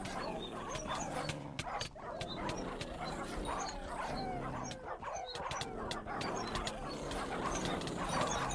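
Many puppies in the Minecraft game Hypixel Skyblock yip and bark repeatedly in a dense, overlapping chorus that runs continuously, mixed with chirpy game sounds.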